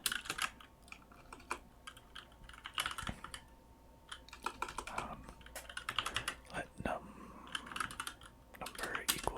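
Continuous close-up clicking of a computer keyboard as someone types code, irregular rapid keystrokes with occasional heavier presses, soft and intimate, with faint whispered speech mixed in.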